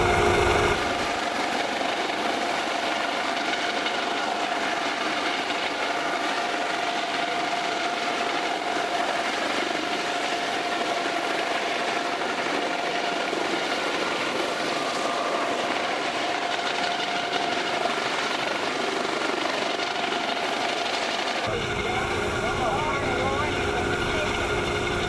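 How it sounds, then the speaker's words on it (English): A Coast Guard helicopter hovers near a cutter at sea, its rotor and engine roar loud and steady throughout with no letup. "The aircraft is currently probably about a 30-foot height right now."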